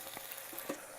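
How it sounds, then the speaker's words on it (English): Tomatoes frying in a pan with onion, ginger and garlic for a mutton curry: a steady, close sizzle with soft crackle throughout and a brief stir or bubble near the end. "Fry tomato in this for 1 minute or until it gets soft."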